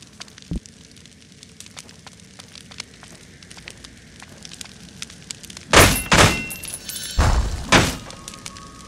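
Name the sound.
attacks hitting training dummies in video game Victor Vran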